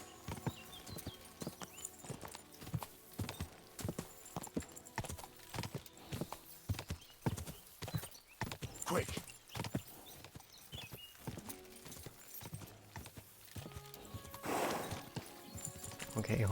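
A video-game horse's hooves clip-clop in a steady, rapid rhythm, broken by an occasional whinny, while a player talks over the action throughout.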